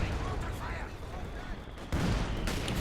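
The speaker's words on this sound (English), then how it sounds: "What's this barrage?" An artillery barrage in the real-time strategy game Company of Heroes 2, heavy rumbling blasts and booms rolling continuously with a fresh burst near the end, loud and dense, with a voice talking over it.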